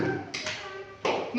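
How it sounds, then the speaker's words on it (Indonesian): Children clapping their hands together in a classroom, a few short bursts of applause under and between a teacher's voice. "Tepuk tangan."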